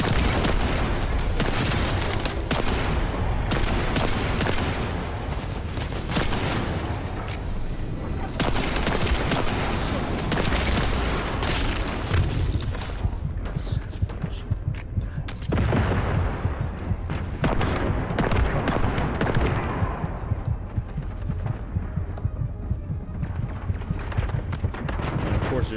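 Rapid gunfire in The First Descendant, dense bursts of shots and booming impacts firing almost continuously for over twenty seconds, loud and layered, thinning slightly toward the end.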